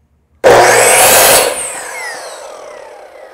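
Interior wood trim being cut at an angle with a power saw, a loud burst of blade cutting that lasts about a second and then winds down as the blade spins out.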